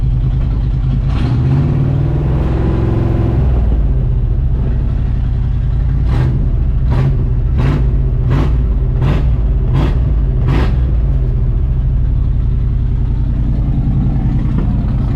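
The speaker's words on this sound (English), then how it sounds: "Good running engine, boys and girls." Abandoned 1980s C10 truck running after sitting 22 years, a steady loud idle with a burst of about seven sharp rhythmic taps or revs in the middle before settling back to an even drone.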